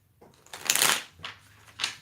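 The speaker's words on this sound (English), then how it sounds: "now that I shuffle my cards" Tarot cards being shuffled nearby: a loud riffling burst followed by two shorter, softer riffles, with no talking.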